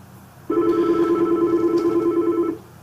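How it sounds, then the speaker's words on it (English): A phone ringing on a call placed through a CyVon Click 2 Dial click-to-dial setup produces one steady, loud ring tone lasting about two seconds, clear and alone. "you can hear that the phone starts ringing"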